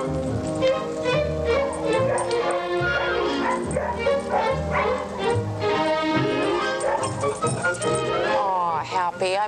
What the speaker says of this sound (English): Cute dog, Bob, but I'm not impressed